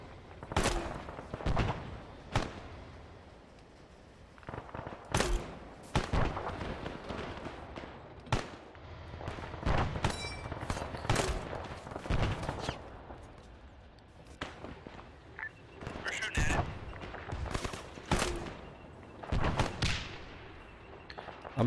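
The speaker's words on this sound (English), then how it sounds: "I'm gonna keep trying to hit it with the AT grenades." AT grenade explosions and gunfire in Arma 3 sound as repeated sharp cracks and heavy thuds in irregular bursts over a long stretch, some near and loud, others farther off, with occasional faint voices.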